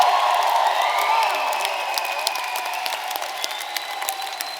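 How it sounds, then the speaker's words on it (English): A large graduation ceremony crowd at the Royal Central School of Speech and Drama applauds and cheers, whoops and shouts rising over a continuous wall of clapping that gradually softens. "Yeah, let's give it up!"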